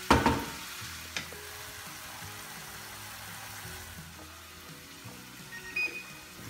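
Onions and mushrooms frying in a pan while cooking a mushroom omelette muffin dish, a steady soft sizzle with a louder burst of stirring at the start and a few clinks, fairly quiet and close, no talking.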